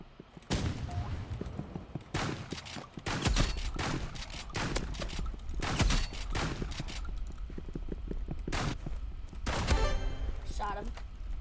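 Shotgun blasts ring out in the game Rivals, a series of loud, punchy shots in quick bursts between quieter game sounds, with a voice talking excitedly in between.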